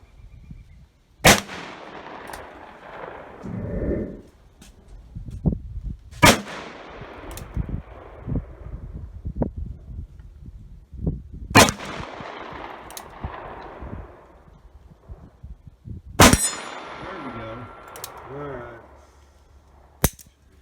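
A .44 Magnum single-action revolver fires four loud, close shots spaced several seconds apart, each a sharp blast with a ringing decay, while people talk quietly between the shots.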